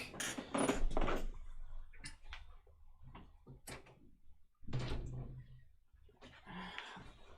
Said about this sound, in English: I'm also going to close the door.